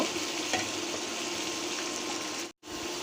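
Ground cumin and onion paste, hand-ground on a grinding stone, sizzles in a hot oiled pan, a loud steady frying hiss throughout with a brief cut near the end.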